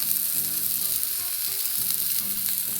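A flipped chicken burger patty topped with provolone cheese sizzles in a pan. The frying hiss is dense and steady, with faint low tones and no speech.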